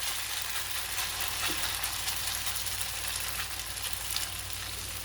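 Potato pancake batter fries in a pot with a dense, steady sizzle of hot fat, even and continuous without any voices.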